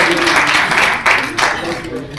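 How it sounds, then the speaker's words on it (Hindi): Applause from the audience at a poetry recital and awards event in Raipur, a brief steady wash of clapping with a slight surge midway, then continuing at moderate level. "एक बार जोरदार तालियों से स्वागत करें।"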